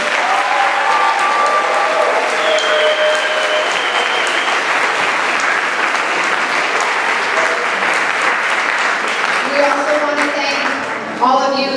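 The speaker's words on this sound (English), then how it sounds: "Can you please give them another round of applause?" A school spring band concert audience claps in sustained, dense applause filling the room for several seconds, with a voice speaking over it near the end.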